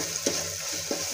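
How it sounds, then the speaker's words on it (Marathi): A spoon stirs onion-garlic masala and turmeric through hot oil, giving a soft, steady sizzle with two brief scraping strokes against the pan, close up and without talk. "त्यानंतर 1 चमचा कांदा लसूण मसाला, त्यानंतर अर्धा चमचा हळद, याला तेलात छान असं फिरवून घ्यायचं"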